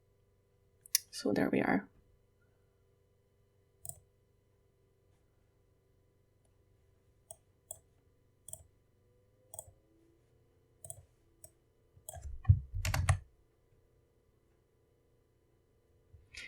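Sparse, sharp computer mouse clicks ring out one at a time across a quiet room with a steady low hum, and someone speaks briefly twice between them.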